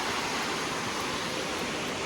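Waterfall in the Blue Ridge Mountains near Ellijay, Georgia, a constant broad rushing hiss of falling water that stays steady and fairly distant.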